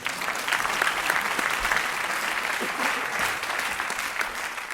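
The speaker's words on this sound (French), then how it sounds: "On peut l'applaudir." Theatre audience clapping steadily after a comedy show, a dense, continuous roar of many hands from start to finish with no voices standing out.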